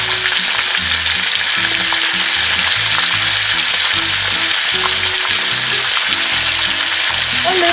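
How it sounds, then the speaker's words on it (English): Calf liver frying in a pan for beef liver adobo, left untouched, giving a loud, dense, continuous sizzle and crackle heard up close with no talking. "Now just wait a little bit until it cooks on that side without touching it."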